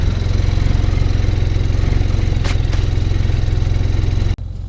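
A snowmobile engine running on last year's fuel idles steadily and loudly up close, a continuous even putter that abruptly drops away near the end.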